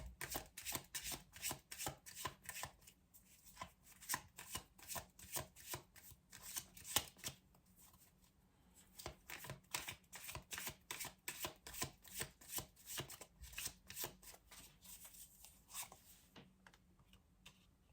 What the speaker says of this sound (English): Let's pull another card for the 2 of Wands to see if I can pull more information.